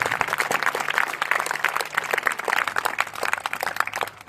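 Listeners at a Republic Day speech break into loud, sustained applause, a thick patter of many hands clapping close and continuous throughout.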